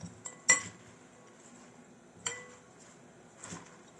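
Utensils knock and clink against a bowl while a green salad is tossed, three separate clattering bursts spread over a few quiet seconds, close by and fairly soft.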